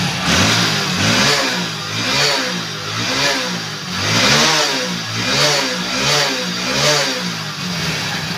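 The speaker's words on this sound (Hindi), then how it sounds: "और जैसे ही मैं बाइक का यहाँ पे थ्रोटल लेता हूँ" A Hero Splendor BS6 motorcycle engine is revved repeatedly with the throttle, giving close, loud rising-and-falling surges about once a second over a steady idle. The bike has a starting and misfiring problem.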